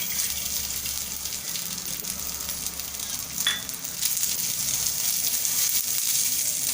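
Fresh coconut pieces roast in a spoonful of oil in a pan, giving a steady close sizzle and hiss with a brief stirring clink partway through.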